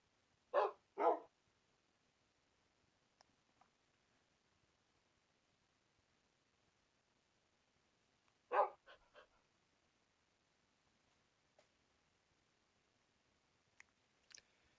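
A dog in the video game Minecraft barks twice, clear and close against near silence, then barks again a few times later, with faint clicks in between.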